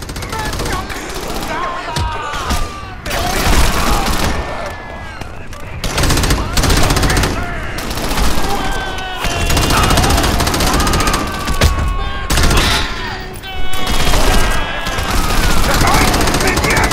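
Gunfire in the Crackdown video game, with dense, loud bursts of automatic fire and heavy shots that keep on throughout, mixed with game effects and some voices.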